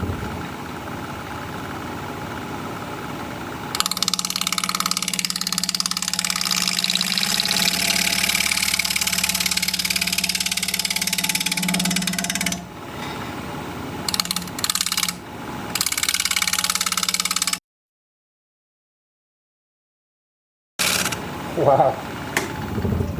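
A bowl gouge hollows a cherry plum bowl spinning on a wood lathe: a continuous rough, whirring scrape that cuts in and out in bursts, drops to silence for a few seconds, then resumes briefly.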